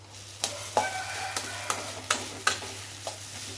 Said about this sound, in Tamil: ரைஸ் ஆட் பண்ணிவிட்டு இப்போ நம்ம அதை நல்லா மிக்ஸ் பண்ணி விட்டுக்கலாம்